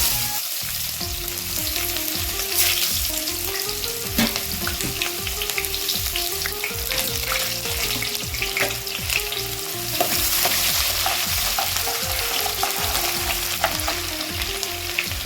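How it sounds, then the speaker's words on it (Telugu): Mustard seeds, cumin and thinly sliced onion frying in hot oil for a palak curry, a steady loud sizzle with crackling and stirring scrapes throughout, alone without talk. "ఆయిల్ వేడైంది కదా, ఆవాలు జీలకర్ర వేసుకుందాము. ఉల్లిపాయ కట్ చేసి పెట్టుకున్నాం, సన్నగా వేసుకుందాం."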